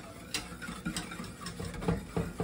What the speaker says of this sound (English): Then we're gonna whisk in